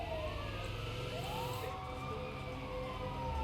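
A Turkish ambulance siren from a GTA 5 mod wails in steady rising and falling sweeps over a continuous vehicle engine drone, fairly loud and unbroken, with no speech.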